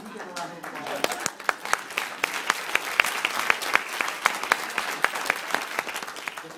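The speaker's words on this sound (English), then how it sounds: "give a round of applause" Audience applause at a White House acceptance speech, a steady wash of many hands clapping with sharp individual claps standing out, moderately loud and sustained.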